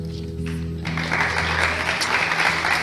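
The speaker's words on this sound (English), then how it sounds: "I wasn't expecting a round of applause" A room full of people applauding, sustained and fairly loud clapping that swells after a brief start and carries on steadily.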